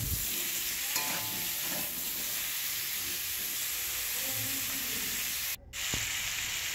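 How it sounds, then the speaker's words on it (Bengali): Vegetables fry with salt in a pan, a steady soft sizzle with occasional stirring scrapes and clinks, close but fairly quiet, without talk. "এরপরে সবজিগুলোকে লবণ দিয়ে ভালো করে ভেজে নিচ্ছি"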